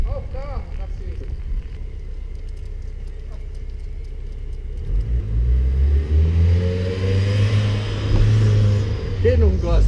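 A car engine revs hard while the driver spins it in tight circles, a loud roaring rise in the second half under excited voices and shouting.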